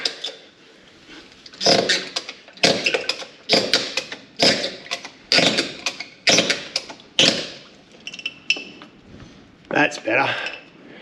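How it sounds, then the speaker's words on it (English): A ratchet strap is cranked tight around a gearbox and frame during a 40 series 5-speed swap, about ten sharp metallic clicking bursts in a steady rhythm, close and fairly loud, with brief pauses between pulls. "we're going to put a ratchet strap around the gearbox and the frame. We're going to pull that back across"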